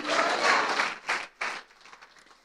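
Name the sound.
congregation applause in church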